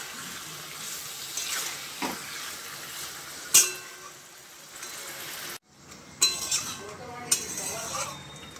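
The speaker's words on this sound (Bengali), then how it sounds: "চিকেনটা দিয়ে দিলাম, এবার ভালো করে মিশিয়ে নেব," Chicken being stirred in a cooking pan with a utensil gives scattered metallic clinks and scrapes over a faint sizzle, with one sharp clink near the middle and a brief quiet gap before the stirring resumes.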